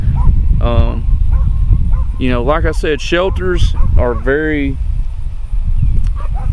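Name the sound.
dogs barking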